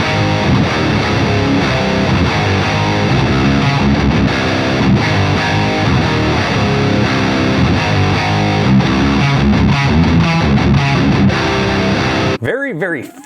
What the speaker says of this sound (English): Very, very fat and warm sort of distortion sound